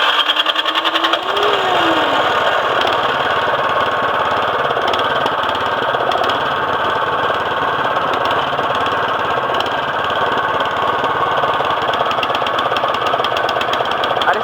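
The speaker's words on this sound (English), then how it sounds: "I'm just going to let it run for a few minutes with the choke off." An MTD 179cc small engine running with the choke off, a loud, close, steady mechanical drone with a fast regular beat, holding even after a brief rise at the start.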